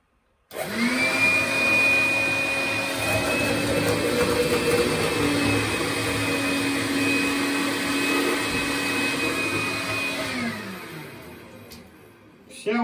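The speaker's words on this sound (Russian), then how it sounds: "Все, зарядили пылесос." A Makita cordless vacuum cleaner with a cyclone attachment whirs steadily at close range with a high whine while collecting water for about ten seconds, then winds down and stops.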